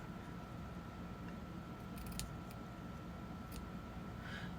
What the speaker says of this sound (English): now I'm going to cut this